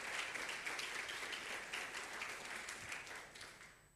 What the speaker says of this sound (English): Please give applause for the topic today